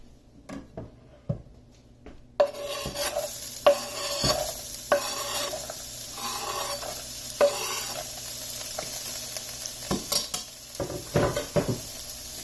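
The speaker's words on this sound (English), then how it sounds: "Now we're going to go over to the skillet where I've got some hot olive oil, ready to saute these things." Onion and bell pepper drop into hot olive oil in a skillet, bursting into a steady sizzle marked by repeated clacks and scrapes of a utensil against the pan, close and clear with no talk.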